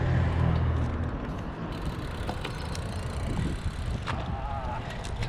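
A car climbs the Cat and Fiddle hill, giving a steady, close rumble of engine and road noise with wind buffeting the microphone throughout.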